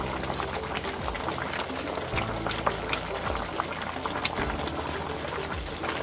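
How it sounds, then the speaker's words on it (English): Leftover roasted turkey stew boils in a pot, a steady bubbling and gurgling wash with soft liquid pops and occasional louder blips, close and continuous with no talk. "It's been boiling for 55 minutes now."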